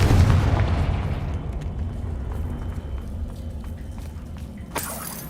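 A Confringo fire spell goes off in a video game, a heavy low boom that rolls off into a long rumbling decay, followed by a short bright crackle near the end.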